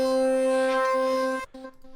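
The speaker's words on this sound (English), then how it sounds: "I added this key one shot which sounds like this" Single sustained keys one-shot sample, a bright harmonic synth chord held steadily before cutting off abruptly, with a brief faint repeat tail, loud and alone.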